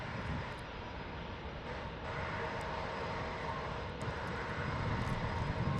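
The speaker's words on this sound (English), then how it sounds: "Alaska taking off to San Francisco" An Alaska Airlines airliner takes off for San Francisco from San Diego, its engines producing a steady, distant roar that holds at a moderate, even level throughout.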